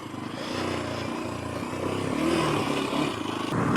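Kawasaki KLX230 dual sport motorcycle riding off-road, a steady engine drone with rising and falling revs and a brief surge near the middle, close and continuous throughout.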